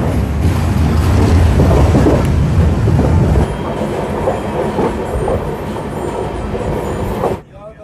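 Sairang Express train running on rails, a loud continuous rumble and rattle of wheels from inside or close by, easing slightly partway through before cutting off at the end.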